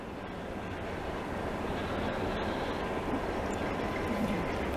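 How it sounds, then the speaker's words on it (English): A long CN freight train passes during a snowstorm in Montreal, making a continuous broadband rumble and rolling roar that is steady and fairly loud throughout, with no voices. "It's a hell of a rig, hell of a train, I mean."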